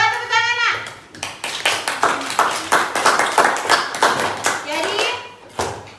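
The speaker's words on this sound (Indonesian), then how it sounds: "Coba tepuk tangan, Nak." Children in a classroom clap their hands in quick, uneven bursts, close and fairly loud, after a voice at the start and with a brief voice near the end.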